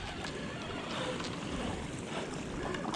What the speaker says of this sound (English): A lot of splashing over here.